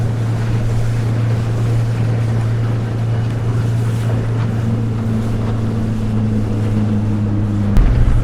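A Highfield 380 Sport boat cruising at 15 knots and 3,500 RPM, its outboard engine droning steadily under rushing water and wind noise, close and continuous.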